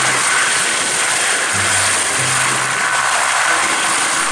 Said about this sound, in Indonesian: Wah, baling-balingnya juga berputar. Ternyata ini helikopter polisi teman-teman.